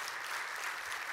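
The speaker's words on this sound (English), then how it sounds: "please join me in a round of applause for a great panel and for their thoughts" An audience at an aerospace summit applauds a panel on airspace management and air traffic control, a soft, distant, steady patter of clapping over a brief stretch.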